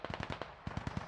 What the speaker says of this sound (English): Another explosion, though.